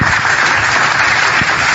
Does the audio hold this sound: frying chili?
no